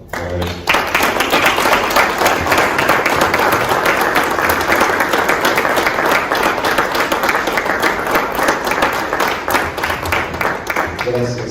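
An audience at a veterinary conference breaks into loud, dense applause that starts abruptly and continues steadily for more than ten seconds, with faint crowd murmur mixed in.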